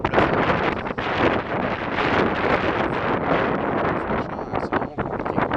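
Strong gusts buffet the microphone beside a gravel pit lake during carp fishing, a loud continuous roar with surges and brief lulls throughout.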